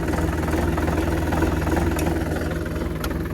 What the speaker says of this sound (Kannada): ಟ್ರ್ಯಾಕ್ಟರಲ್ಲಿ dry air filter ಕೊಟ್ಟಿರೋದ್ರಿಂದ engine sound ಸ್ಮೂತಾಗಿ ಬರುತ್ತೆ.